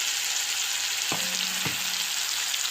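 Minced garlic and thyme sauté in oil flavored with onions, producing a continuous bright hiss of frying close by, with two brief knocks of a utensil midway and no voices.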